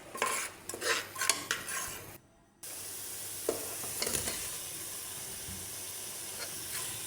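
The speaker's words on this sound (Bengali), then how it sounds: "মশলাটা ভালো করে কষিয়ে নিয়েছি।" Spice paste with chilli powder frying in a pan, bursts of stirring and spatula scraping at first, then a brief pause before a steady, even hiss of sizzling continues close by.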